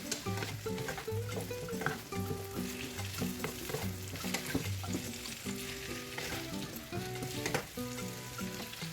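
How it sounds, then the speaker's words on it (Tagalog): Okra (ladyfinger) stir-fries in a hot oiled pan, crackling with a steady bright sizzle while a utensil scrapes and knocks in regular strokes, close and continuous throughout with no talking. "kapag mainit na yung mantika, lagay na natin yung ating okra. Saka haluin natin."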